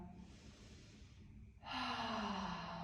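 Deep breathing during a gentle slow yoga flow, a soft drawn-out breath followed by a louder, fuller breath that rises abruptly and carries on, close and without talking.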